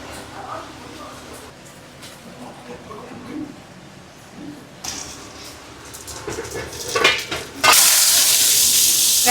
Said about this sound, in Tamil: இப்போ வடகம் தாளிக்கும்